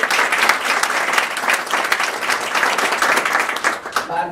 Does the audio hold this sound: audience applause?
yes